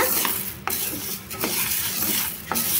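Urad dal frying in a pan and being stirred, a continuous sizzle with scraping spoon strokes against the pan every second or so, loud and close.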